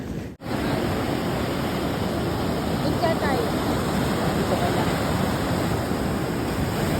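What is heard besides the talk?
river waves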